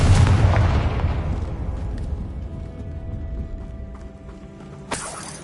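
Confringo blasting spell explosion in Hogwarts Legacy: a loud, deep boom that rumbles and slowly fades over several seconds, then a second sharp burst near the end.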